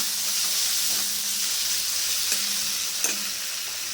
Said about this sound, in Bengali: একটু কষিয়ে নেব